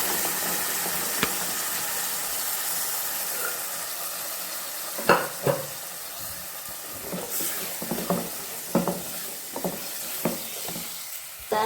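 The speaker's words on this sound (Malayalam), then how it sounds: "ഇനി ഇതൊക്കെ കൂടി നല്ല രീതിയിലൊന്ന് ഇളക്കി മിക്സ് ചെയ്ത്" A spoon stirs masala and chickpeas frying in a pan, giving a steady bright sizzle with a series of scraping knocks that grow more frequent toward the end.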